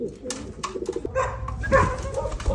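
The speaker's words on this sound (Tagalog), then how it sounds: "Galit na naman mga kalapatids." Racing pigeons coo close by in soft, throaty murmurs, mixed with other faint animal and background noises.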